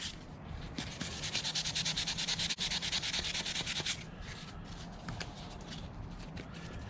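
Sandpaper rubs on a wooden horseshoe knife handle in quick, close back-and-forth strokes that stay loud and rhythmic for about three seconds, then fade into softer, sparser scraping.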